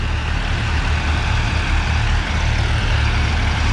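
Tractors such as a New Holland 3602 and a Powertrac pass on a road, giving a loud, steady diesel engine drone with low, rumbling throb that stays close and continuous throughout, with no talking.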